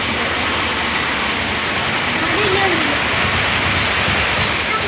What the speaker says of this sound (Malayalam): അപ്പോൾ മഴ അതാ പെയ്ത് തുടങ്ങി പെയ്ത് തുടങ്ങി